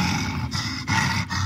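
A stone monster in the God of War video game lets out a loud, continuous, rumbling roar with a few brief breaks, filling the scene.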